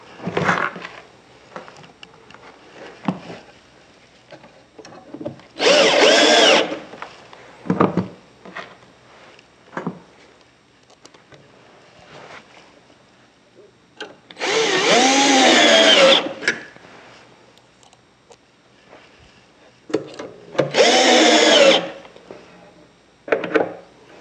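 A power drill bores holes while fitting hinges to a microwave stand, heard as three loud separate bursts of a whining motor with quieter handling knocks between them.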